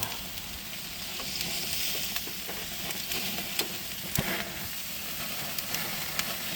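Barbecue grilling over a fire, a steady crackling sizzle with scattered pops throughout, close and fairly loud with no talk.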